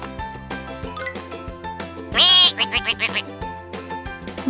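Cartoon duck quacking in a children's drawing app, a loud burst of quacks in the middle over bouncy game music with plinking notes.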